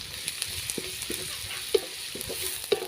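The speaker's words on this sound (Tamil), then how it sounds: "இது கூட வந்து இஞ்சி பூண்டு பேஸ்ட்டு சேர்த்துக்கலாம். சேர்த்து நல்லா கலந்து விட்டுறலாம்." Ginger garlic paste frying with onions in a pan for a cabbage gravy, a steady low sizzle with a few soft clinks of stirring scattered throughout.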